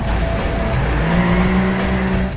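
A car drifts in Gran Turismo 5 Prologue, engine roaring steadily while tires squeal in a long continuous skid, loud and close with no talk.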